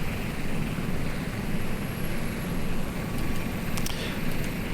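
Aircraft engines roar steadily in the naval simulation game Sea Power, a loud continuous droning hum with no breaks, filling the scene without any voices.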